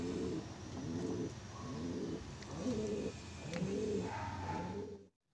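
Pigeons coo in repeated low, throaty bursts close by during trap door training, several overlapping calls rising and falling over a few seconds before cutting off abruptly.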